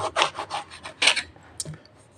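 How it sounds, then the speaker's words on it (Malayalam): A blunt kitchen knife saws through eggplant in thin slices, giving a run of rough rasping strokes in steady rhythm, then a couple of sharper cuts and a soft knock, close and fairly loud. "നേർങ്ങനെ ഇതേപോലെ സ്ലൈസ് ചെയ്യാം. കത്തിക്ക് മൂർച്ചം കുറവാണ്"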